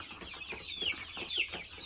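Young chicks cheep nearby, two thin high chirps rising over a soft background of clucking and shuffling, with no voices.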